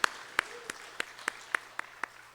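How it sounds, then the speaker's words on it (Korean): A church congregation at a Sunday morning worship service claps in a steady, evenly spaced rhythm, about nine crisp claps of moderate loudness over a quiet hall. "사망 권세를 이기시고 다시 사신 그 주님께 감사와 우리 영광의 박수 올려드립니다"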